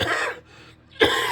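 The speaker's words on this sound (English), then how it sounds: "I'm coughing so much" A single sharp, close cough, then a short quiet pause before another harsh cough bursts out.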